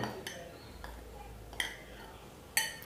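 Dry ingredients go into a bowl of eggless coconut cake batter, with a spoon or utensil clinking sharply against the bowl a few times between quieter scraping and light handling sounds.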